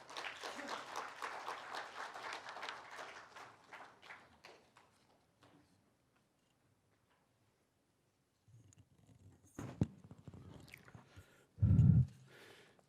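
An audience at a Korean academic conference marking the 100th anniversary of the Uiyeoldan gives a burst of steady hand clapping that fades away over about five seconds, followed by near silence and a few scattered shuffles and one loud thump.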